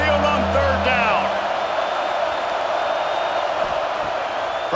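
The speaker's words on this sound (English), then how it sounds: "The Tide crowd rolling noise down onto Saban Field on 3rd down." A stadium crowd in College Football 26 roars loudly for Alabama on third down at Saban Field, a dense continuous wash of cheering and whistles, with a commentator talking over it at the start.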